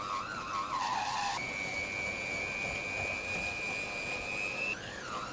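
A steady high electric motor whine from a mixer blending softened butter and sugar for a rhubarb crumble, shifting pitch briefly near the start and end and running close and loud throughout.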